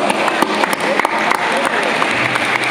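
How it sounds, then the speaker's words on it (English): Indoor audience at an Earth Hour event clapping, a dense, even patter of applause that holds steady for a few seconds with voices mixed into the crowd noise. "Let's give them a round of applause."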